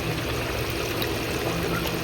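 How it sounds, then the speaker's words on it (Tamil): Water pours steadily into a pan of pepper chicken gravy, making a continuous close splashing rush that lasts the whole moment with no break. "தண்ணி ஊற்றியாச்சு."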